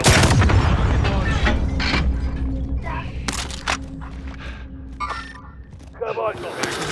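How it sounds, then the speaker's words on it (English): Heavy booms from enemy precision airstrike explosions in a combat video game, a loud low rumble at the start and sharper blasts later, under steady game noise, radio chatter and players talking. "Enemy precision airstrike."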